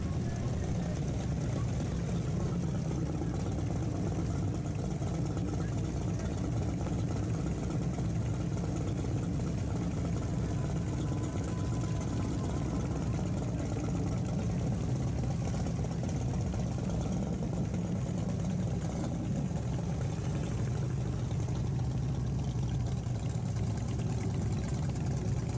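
Motorcycles idling and riding through downtown at the Sturgis rally, a steady, continuous engine rumble that fills the whole stretch without pause.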